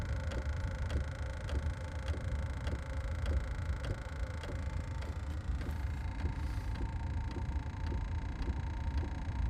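Amazon-sourced diesel heater running in an off-grid 30-foot Pacific yurt, a steady low hum and drone with a regular ticking pulse from the fuel pump, continuous and fairly faint throughout.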